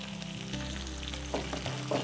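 Chopped tomatoes for Kerala-style anchovy thoran sizzle in a hot pan while a spoon stirs them, a close, continuous frying hiss broken by a few scraping stirs.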